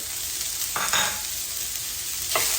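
Chopped white onion sizzles steadily in hot bacon grease in a pan, a constant hiss with two brief louder bursts as the pieces are added and stirred, no talking.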